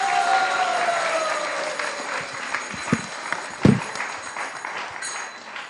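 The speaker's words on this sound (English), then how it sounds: "let's give a big round of applause to His Grace Vaisesika Prabhu" An audience at a Sunday Feast gathering gives a round of applause, a diffuse mass of clapping over a sustained tone that fades as a few louder knocks sound near the end.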